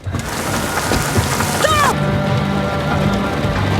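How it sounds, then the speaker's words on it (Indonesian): Heavy rain pours down in a steady, dense hiss throughout, with a brief faint tonal sound rising over it midway. "hujan deras mengguyur kota"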